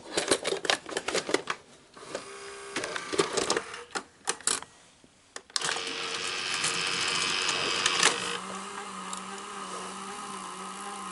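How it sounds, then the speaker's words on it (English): Clicks, ratcheting and gear whirs from a Sanyo Betacord Betamax VCR loading a tape, a busy mechanical clatter that settles into a steady motor hum with faint tones in the second half; no talking. "Okay, we're gonna put the tape in."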